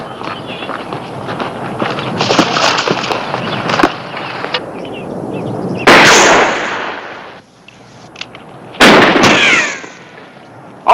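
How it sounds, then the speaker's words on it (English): Gunshots ring out in a western TV series scene, two loud, sharp blasts a few seconds apart over a bed of outdoor rustling and scuffing, with no one speaking. "Hold your fire, Bert."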